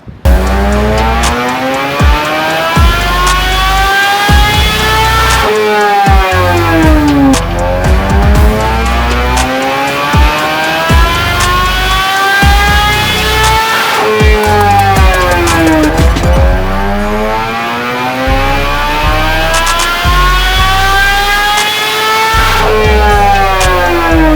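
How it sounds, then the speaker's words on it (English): A 2011 Suzuki GSX-R1000 motorcycle engine running on E85 fuel screams loudly on a dyno through repeated full-throttle runs, each a rising rev sweep that climbs, peaks and drops before starting again, with no talking. "let's get this thing started up and let's get this thing running and do some runs"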